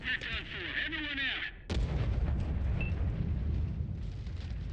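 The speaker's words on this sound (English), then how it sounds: "And artillery." Heavy booming artillery fire in a video game, a dense continuous rumble of blasts filling the scene after a brief stretch of talk and chatter at the start.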